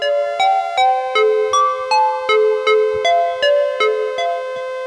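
An analog through-zero FM synth patch rings out glassy, bell-like tones, about a dozen struck notes in a steady pulse with bright metallic overtones, each note decaying quickly into the next, clear and close with no voices.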